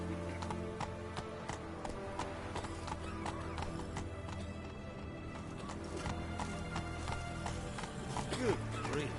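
A horse named Roach gallops in The Witcher 3, with rapid, even clip-clop hoofbeats running continuously over a game soundscape, plus a brief whinny and a voice talking over it.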